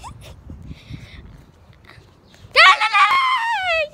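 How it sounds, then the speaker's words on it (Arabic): A dog with long, flowing hair lets out a loud, high, wavering whine or yelp in the second half, after a stretch of quiet background murmur and faint voices. "انت كلب؟ حيوان كلب؟"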